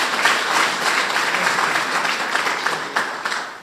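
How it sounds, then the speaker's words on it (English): Steady applause from a dinner crowd at a patriotic celebration, honoring the women of the Republican Party, dense clapping sustained throughout with no voices over it. "Give the ladies with the Republican Party a round of applause"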